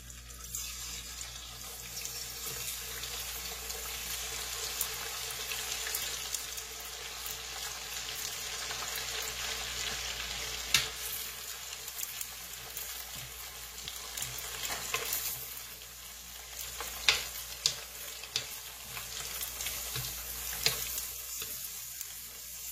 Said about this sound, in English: I got some heated oil. And I'll fry up the beef jerky